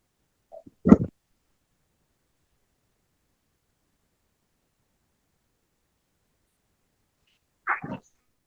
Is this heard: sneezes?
yes